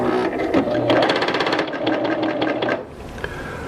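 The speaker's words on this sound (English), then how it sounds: "That's how easy it is to use the Serger." A serger sewing machine stitches fabric with a fast, rhythmic mechanical whirr and clatter up close, running steadily for about three seconds before stopping, followed by a quiet click.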